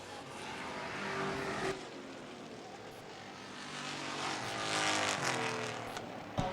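Street-stock race cars racing on an oval track at Portland, their engines a distant roaring drone that swells and fades as the cars pass, with a brief gap and a louder surge near the end.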